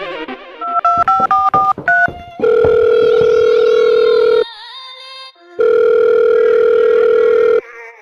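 Telephone dialing: a quick run of touch-tone beeps, followed by two long steady ringback tones separated by a short silence.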